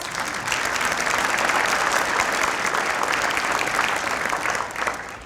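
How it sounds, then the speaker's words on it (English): A symposium audience gives a staff member who handled logistics and registrations a full round of applause, dense steady clapping from a large crowd that holds at a strong level for about five seconds before easing off. "Give her a round of applause"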